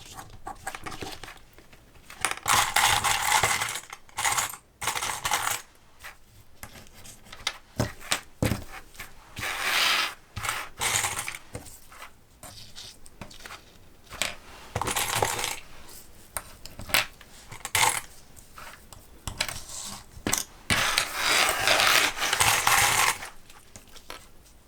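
Plastic sewing clips snapped one after another around the edge of fabric, making repeated clicking and rubbing bursts in an uneven rhythm, close and fairly loud, with no talking.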